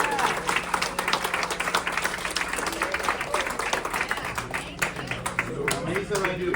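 Applause from a pen show crowd, greeting retailers and vendors, fills the room as dense, sustained clapping from many hands. It stays steady and close for several seconds, with voices murmuring underneath.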